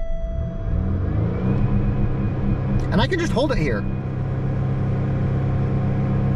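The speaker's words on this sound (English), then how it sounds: "I can get my revs up pretty high when I'm in neutral." A car engine held at high revs in neutral, a steady loud droning rumble running the whole time while someone talks over it.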